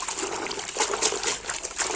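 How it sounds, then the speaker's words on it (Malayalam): Spinach greens being rinsed in water, with a steady trickling and splashing of water, fairly close and moderately loud throughout, no talking. "ചീര നമുക്ക് നന്നായിട്ടൊന്ന് കഴുകിയെടുക്കാം."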